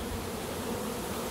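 A honeybee swarm hums inside a box, a continuous dense buzz of many wings, fairly faint and even, with no voices.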